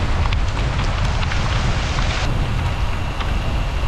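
Heavy hail or large raindrops pelting cyclists during a road race stage, a dense continuous patter over strong wind and low rumble, loud and close, with no talk.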